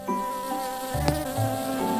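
A steady bumblebee buzz drones close by, its pitch shifting slightly as it hovers, with no voices.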